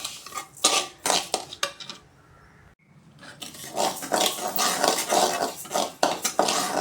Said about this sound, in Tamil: அந்த கம்பை போட்டு வானலில் வறுத்து எடுத்துக்கலாம்